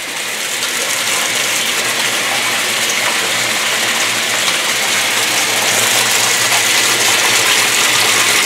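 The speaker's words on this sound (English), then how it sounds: "The really cold water is coming in, so that's why it's going down a bit." Cold water gushes steadily into a Speed Queen 8 or 9 Series washer during the rinse fill, a loud, constant rushing hiss with faint mechanical hum beneath, no voices.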